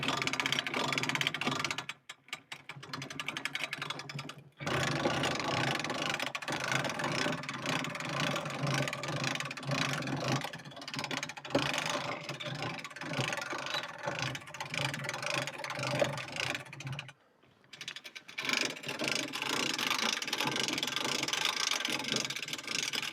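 A ratchet winch cranks to drag a log through a snatch block on a roughly 1,000-pound pull, giving steady mechanical clicking and whirring that runs nearly throughout, with two brief pauses.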